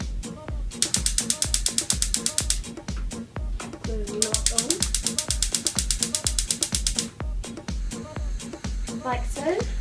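Rapid bursts of sharp igniter clicks from a stove burner being turned on, two long runs of evenly spaced ticks close by, with voices talking underneath.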